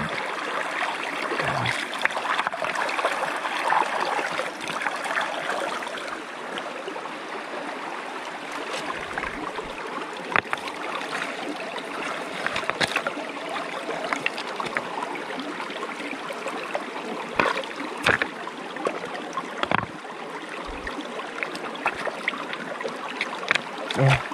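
Water leaks and flows steadily at a fishpond, a continuous close trickling rush that persists throughout with occasional small knocks and splashes.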